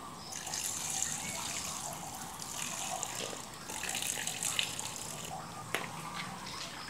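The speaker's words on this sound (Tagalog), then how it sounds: "Lagyan ko ng tubig." Water pours steadily into a catfish breeding tank, a continuous close splashing gush with a few louder splats, no voices over it.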